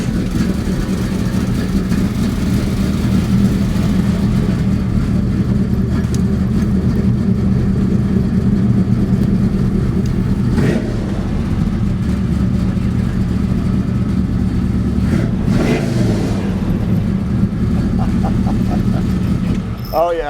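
A Chevy C-10 pickup with a 383 stroker V8 and five-speed runs with a loud, steady, low engine drone and a couple of brief revs, heard up close with people talking over it.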